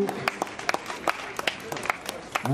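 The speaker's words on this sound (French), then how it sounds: "on peut l'applaudir très très fort" Scattered hand clapping from a small crowd at the finish of the Paris Ecotrail 80 km race, irregular sharp claps rising and falling over a short stretch.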